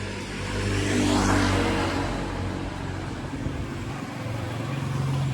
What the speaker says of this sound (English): I'm sorry for the noise of motorbikes, but it's quite busy now.